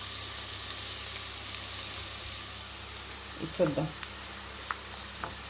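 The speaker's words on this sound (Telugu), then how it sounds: "ఉల్లిపాయలు ఎర్రగా వేగనిద్దాం." Onions fry in a pan on low heat for a prawn curry, giving a faint, steady sizzle with a few soft stirring clicks. A voice speaks briefly near the middle.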